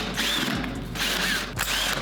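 A cordless power drill driving screws whirs in short bursts, with ratcheting clicks as the clutch slips, close by and fairly loud.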